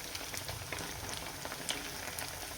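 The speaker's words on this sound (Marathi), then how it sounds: "आता एकदा पलटी करून घेऊयात आणि दुसऱ्या साईडने पण छान मस्त तळून घेऊयात" Sabudana vada deep-frying in oil over a high flame, a quiet, even bubbling crackle with small pops scattered throughout.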